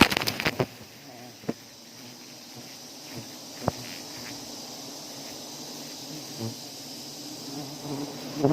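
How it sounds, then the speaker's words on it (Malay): A swarm of honeybees at a wild hive harvested for honey in Aceh Besar buzzes as a steady, dense drone throughout, with a few sharp knocks and taps at intervals and no voices. "Ini lebah ya guys."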